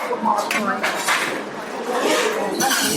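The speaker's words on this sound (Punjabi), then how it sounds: "ਪਲੇਟਾਂ ਲੈ ਰਹੇ ਆ ਭਾਂਡੇ ਤੇ ਨਾਲ ਲੈਣੇ ਕਟੋਰੀਆਂ" Steel plates and bowls clatter and clink steadily in a busy gurdwara langar hall, with a continuous din of dishware handled nearby and voices of a crowd murmuring underneath.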